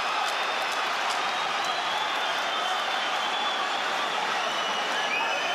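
Dense arena crowd at UFC 284 roars and cheers steadily during the Makhachev vs Volkanovski title fight, a loud continuous wash of noise with scattered applause and no distinct talk.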